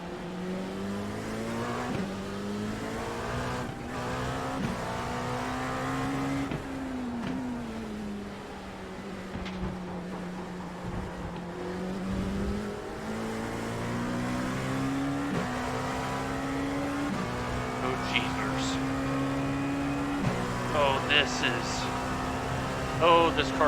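Porsche Cup race car engine in a racing game at Le Mans, droning loud and steady as revs climb and drop through repeated gear shifts, with a constant roaring tone underneath.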